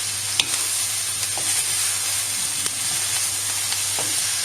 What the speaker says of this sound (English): Right, got mushrooms to add in.